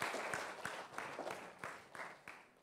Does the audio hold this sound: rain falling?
no